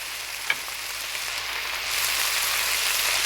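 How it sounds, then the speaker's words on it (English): Food frying loudly in a pan, a steady broadband hiss of sizzling that holds throughout and swells louder in the second half, with a brief sharp pop near the start. "Sizzling's a little loud."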